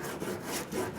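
A sanding block rasps across body filler on a car dent repair in quick back-and-forth strokes, a short, faint scratchy rubbing heard alone.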